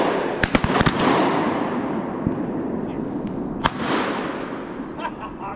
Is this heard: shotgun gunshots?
yes